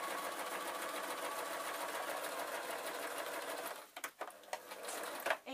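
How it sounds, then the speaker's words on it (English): A sewing machine runs steadily as it stitches through an oil cloth messenger bag, a continuous close mechanical whir that breaks off near the end into a few short stops and bursts. "line this up and then sew to the end"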